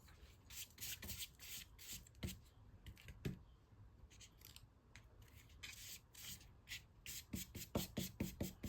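Paper collage pieces being gently rubbed down onto a painting, giving repeated short scratchy swishes in uneven bursts, close and fairly quiet with no talking.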